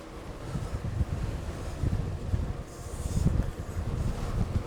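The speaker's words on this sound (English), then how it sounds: "the wind's easing off a little bit close I'm getting to the shelter, but it's still blowing right in my face" Strong gusting wind of about 25–30 mph roars across the microphone while cycling toward shelter in the Lake District, a steady buffeting rumble that swells and eases in waves throughout, with no talking.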